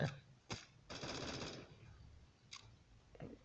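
In the Bullet Force video game, short bursts of automatic gunfire crackle close by, with a longer rattling burst in the middle, separated by brief quiet gaps.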